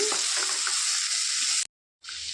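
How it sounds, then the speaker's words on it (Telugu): Snake gourd pieces are stirred in a hot pan, hissing loudly and steadily under scraping strokes. The sizzle cuts out briefly for a short silence, then resumes just as strongly. "ఇప్పుడు ఇందులోనికి పొట్లకాయ ముక్కలు వేసేసుకోవాలి చక్కగా కలిపేసుకోవాలండి"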